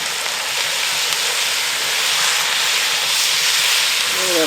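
Steak searing in a hot pot gives off a loud, steady, broadband sizzling hiss that holds level throughout with no pauses, close up.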